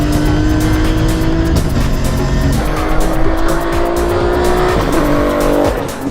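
A Toyota Supra MKIV race car laps a racetrack, its engine droning loud and close with rising and falling revs, gear changes and some tire noise, without speech.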